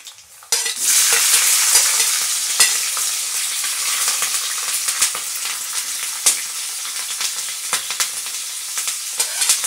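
Ingredients for lemon rice fry in hot oil and are stirred until golden brown, a loud close sizzle with repeated scraping and stirring clicks throughout.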